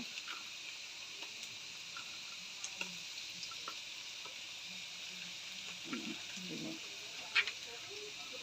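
Soft, steady sizzling of onions frying in a pan, with faint clinks and a few low bumps from stirring.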